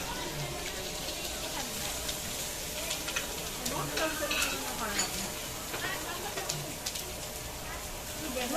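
Pork sisig sizzles and crackles on a hot plate at a countryside restaurant in Quezon Province, a steady frying hiss with stirring scrapes and birds cooing faintly in the background.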